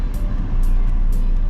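A Saab rebuilt from a salvage title is driven around the block on a road test, its engine and tire noise a loud, steady rumble close by with no talking.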